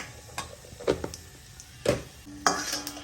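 Dried chillies, whole spices and cumin seeds hit hot oil in a pan, giving soft sizzles broken by a few sharp clinks and scrapes of a spoon stirring, close and fairly quiet.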